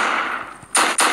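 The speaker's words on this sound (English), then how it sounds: "Shotgun! I shoot 47 times." A shotgun fires in the Roblox game Redwood Prison. Two or three sharp, loud blasts come in quick succession at close range after a brief, muffled lead-in.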